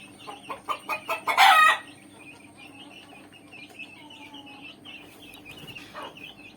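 Native country roosters and hens give a quick run of rhythmic clucks that builds into a loud, harsh crowing burst. Quieter, scattered clucking follows, fairly close by.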